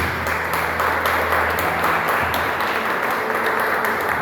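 Congregation applauding during a church worship service, a steady dense wash of clapping that fills the space with a low hum underneath and no speech over it.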